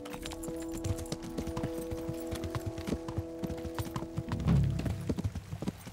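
Horse hooves clip-clop in a steady, even rhythm while riding in the medieval video game Kingdom Come: Deliverance, close and fairly loud, with a brief heavier thump of movement near the end and no talking.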